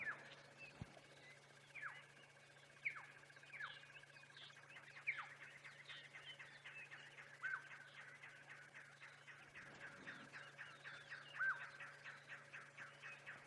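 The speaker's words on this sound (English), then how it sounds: "You can hear some of the birds' alarm calling in the background." Birds give repeated alarm calls at lions on a sunrise safari drive: a steady run of sharp chirps and descending tweets at a moderate distance over a low engine hum.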